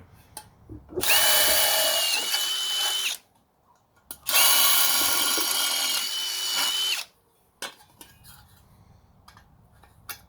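A power drill driving a screw into the headlight bucket of a 1979 Ford F-100, two loud sustained whirring runs of a few seconds each with a short pause between, followed by a few clanks of handling.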